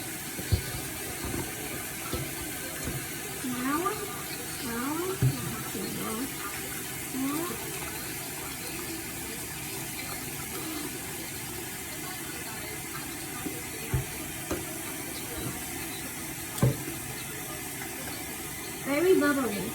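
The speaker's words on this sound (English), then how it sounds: "So let me just start the water." A tap runs steadily into a sink while plastic fidget poppets are washed with soap, a constant low wash of water with occasional soft knocks and splashes, quiet and close.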